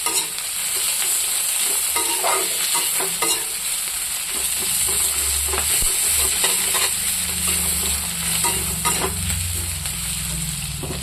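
Sliced onion and green chilies frying in a pan: a loud, continuous, close sizzle with scraping stirs throughout and nobody speaking.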